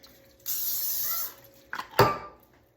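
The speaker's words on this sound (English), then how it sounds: "I'm going to spray it with a little bit of cooking spray." A short hissing burst of cooking spray into an 8x8 Pyrex dish, lasting under a second, followed by a couple of clatters of the dish being set down.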